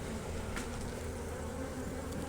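Dense, steady buzzing of honey bees at a hive in early spring, a continuous loud drone filling the whole stretch with no pauses.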